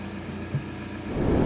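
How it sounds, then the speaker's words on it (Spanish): Engine start-up during a used-car inspection: a short crank thump midway, then the engine catches and a louder rumbling idle builds toward the end, recorded close with no talking. "podemos proceder a arrancar el motor"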